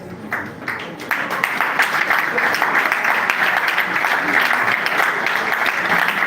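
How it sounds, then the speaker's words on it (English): Audience applause at a political aspirant summit as movement leaders stand, starting a bit thin then swelling into loud, sustained clapping from a large crowd, with no talking over it. "please stand up for a round of applause"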